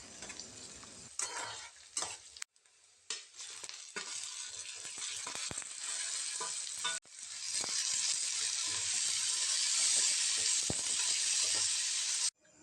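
Ginger and garlic sautéing in a pan for a Tamil-style channa masala, with a steady close sizzle and frying hiss broken by stirring scrapes, growing louder and more continuous toward the end.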